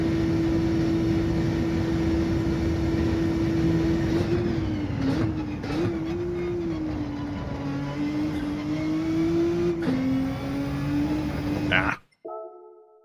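A Nissan GT-R engine in Gran Turismo 7, held at a loud sustained high-revving drone that wavers as it shifts, then cuts off abruptly near the end.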